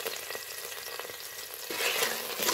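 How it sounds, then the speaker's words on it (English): A few garlic cloves frying in a tablespoon of organic olive oil for a three bean soup, a light crackling sizzle with stirring clicks that grows brighter and louder near the end, no talking. "In a tablespoon of organic olive oil, put 2 or 3 cloves of garlic."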